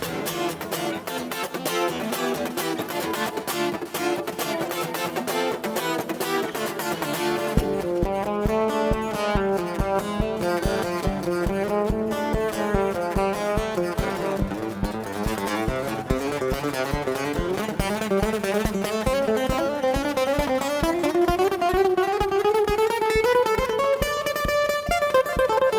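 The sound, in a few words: devil's fiddle bow across strings, evil hiss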